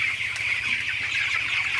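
A flock of broiler chickens clucks and chatters continuously at close range, a dense overlapping murmur of many birds with no voices.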